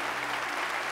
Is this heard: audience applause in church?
yes